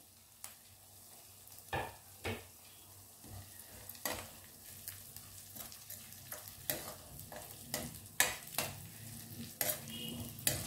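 Green garlic leaves frying in a pan produce a faint, low sizzle broken by repeated spatula scrapes and taps that grow busier toward the end, heard close up with no voices.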